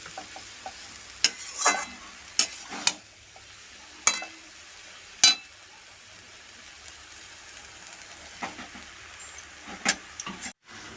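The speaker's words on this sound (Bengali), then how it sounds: "একটু নেড়ে এটাকে ভাজবো একটু বেশ কিছুক্ষণ ভাজতে হবে" Fig (dumur) curry vegetables are stirred and fried in a pan, with a soft steady sizzle and sharp scraping clinks of a spatula coming every second or two, and no talking.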